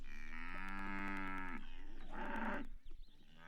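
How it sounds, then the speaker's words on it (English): A cow moo played back by an animal-voices app, a long drawn-out tonal low that breaks and resumes, fairly loud and close, with no talking over it. "And it plays the cow."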